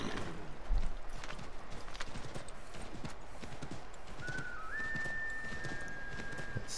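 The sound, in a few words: horse hooves clip-clopping in video game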